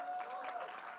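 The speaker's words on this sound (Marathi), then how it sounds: "जे शिट्टी वाजवते तुम्ही स्वतःसाठी टाळ्या वाजवा यार" Audience clapping at a film event, a brief burst of applause from a crowd, with a whistle tone running through it.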